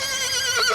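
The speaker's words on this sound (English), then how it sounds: "The first step is to calm the horse with a sedative, but Zinzan has other ideas" A horse about to be sedated before castration gives a loud, close whinny, one sustained wavering neigh lasting under a second with no voices.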